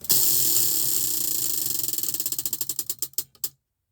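A prize wheel spun by hand, its ratchet clicking rapidly at first and then slowing into louder, widely spaced clicks before stopping after about three and a half seconds, close and clear, with no talking.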